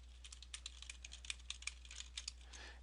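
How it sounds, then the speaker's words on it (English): Rapid bursts of keypresses on a computer keyboard, crisp close clicks in short uneven clusters over a quiet background with a low steady hum. "we're typing what in caps"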